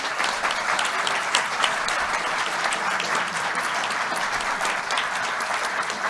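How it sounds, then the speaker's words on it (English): Sustained applause from an audience at the announcement of a nuclear fusion breakthrough, dense even clapping filling the whole stretch with little talk. "Big applause and thank you to the NNSA, the National Nuclear Security Administration."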